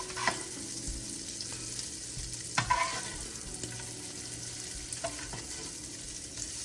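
Shrimp frying in a pan, a steady sizzle running throughout with occasional louder crackles and stirring bumps, no voices.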